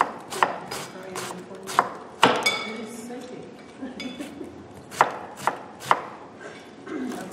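A knife chops vegetables for ratatouille on a cutting board, with eggplant and tomatoes involved; irregular close, crisp strikes come every second or so over faint kitchen background, with occasional light clinks.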